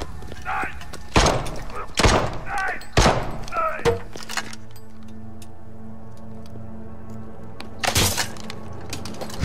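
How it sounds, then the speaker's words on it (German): Punches and blows knocking out Poison Ivy in the Batman: Arkham Knight video game: several loud, sharp impact cracks in quick succession early on, then a humming lull and one more hit near the end. "Jetzt hatte ich hier die Poison Ivy kalt gemacht. Also kalt gemacht. K.O. geschlagen"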